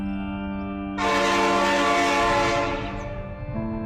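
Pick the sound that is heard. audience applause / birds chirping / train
train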